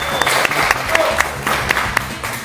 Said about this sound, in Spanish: Y un fuerte aplauso para ustedes